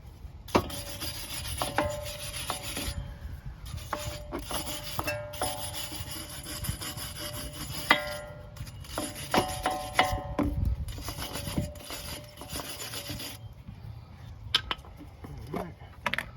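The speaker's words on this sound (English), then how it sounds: "just use a wire brush, clean the bracket where the pad is going to be sliding back and forth" A wire brush scrubs the pad slide areas of a brake caliper bracket on a Jeep Grand Cherokee during a pad and rotor job, giving repeated close rasping strokes in bursts with short pauses and occasional metallic taps.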